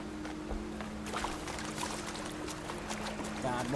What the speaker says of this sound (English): God, walking through this water must be hell.